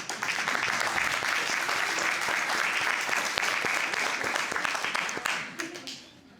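Studio audience applause on a courtroom television show, dense and loud clapping sustained for about five seconds before quickly tapering off into near silence.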